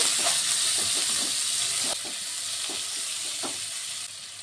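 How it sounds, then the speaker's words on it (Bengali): Chopped onion sizzles steadily in hot oil with whole garam masala of cinnamon, cloves and cardamom, a constant close hiss broken by soft stirring scrapes. "এখন দিয়ে দেবো পেঁয়াজ কুচি। পেঁয়াজটিকে একটু ভেজে নেব।"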